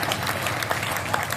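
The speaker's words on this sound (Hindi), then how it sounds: "एक बार तालियां बजाकर मुझे आगे सुनिए।" Brief burst of dense clapping from the crowd at a Hindi poetry gathering in Sojat, many hands together, steady and fairly loud.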